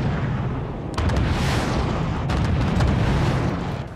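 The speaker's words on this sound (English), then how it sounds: "Just like artillery shots" Heavy artillery fire in the multiplayer fort-building game Forts, a sustained roar of deep booms and eruptive blasts with several sharp shot bursts standing out, loud and dense throughout.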